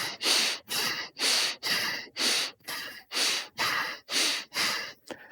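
Forceful rapid yoga breathing with deep inhales, about ten strong, evenly spaced breaths in a steady pumping rhythm, close and loud with brief pauses between.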